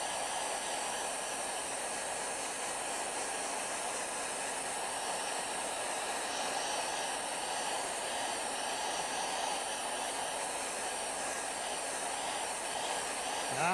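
A hair dryer blows steadily on a wet painting, a continuous, even whooshing hiss held at a constant level from start to finish with no talking.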